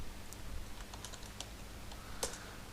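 Fingers type a command on a computer keyboard, with sparse, irregular soft key taps and one sharper keystroke near the end, quiet and close in a still room.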